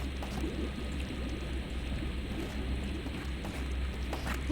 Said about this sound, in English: Sounds like badly recorded rain.